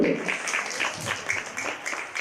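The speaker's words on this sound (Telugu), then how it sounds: "వర్షం వచ్చేసినట్టుగా గట్టిగా చప్పట్లు ఒక్కసారి మన కోసం" Crowd applause at an Aam Aadmi Party public rally in Telangana, a moderate wash of clapping heard from some distance, with voices mixed into the noise.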